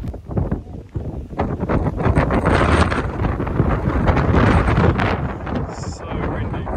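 Heavy wind buffets the microphone in loud, continuous roaring gusts on a steep climb up The Nut in Tasmania, with a voice faintly audible beneath the rumble.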